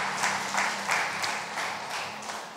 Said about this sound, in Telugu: అందరం ఒకసారి చప్పట్లు కూడా దేవుని స్తుతించండి.